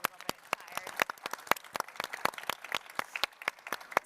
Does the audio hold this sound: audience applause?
yes